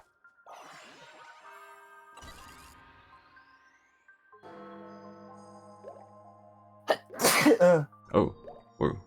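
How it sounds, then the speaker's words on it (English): A person sneezes loudly a few times over game music with chimes and tones while streaming LittleBigPlanet 3, the sharp bursts near the end standing out against the soft melodic background. "I sneezed"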